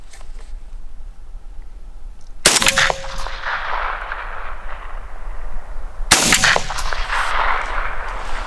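Two loud shotgun blasts with long rolling decays, about four seconds apart, fired outdoors at targets 35 metres away. The loads are 36-gram Azot and 32-gram Silvershot in a container with number 3 shot.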